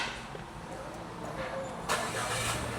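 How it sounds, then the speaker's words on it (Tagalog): A Japanese kei multipurpose van with automatic transmission is push-started, its engine catching with a brief rise and settling into a steady idle, heard close up over broadband mechanical noise. "So, naka-andar na yung ating makina."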